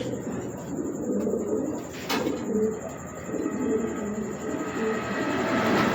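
A pigeon coos softly amid a busy background rumble, low murmuring calls repeating under the steady noise.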